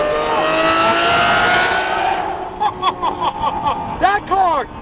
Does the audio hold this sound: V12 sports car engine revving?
yes